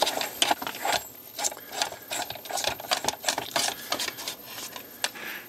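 A wrench turning a 1.5-inch conduit punch on a metal box panel, a close series of rapid ratcheting clicks and metallic creaks in uneven bursts.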